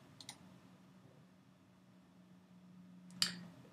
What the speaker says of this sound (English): And then I'm going to click Save Settings.